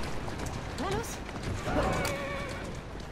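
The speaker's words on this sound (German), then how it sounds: "Mein Pferd ist außer Kontrolle." A horse neighs twice, close and clear, over the steady clatter of galloping hooves, in Assassin's Creed Syndicate.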